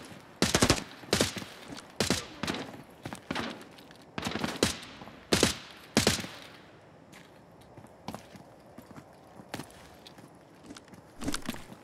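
Gunfire in the video game Arena Breakout Infinite on the Farm map, loud sharp shots and short automatic bursts fired in clusters across the clip, with softer movement sounds between the volleys.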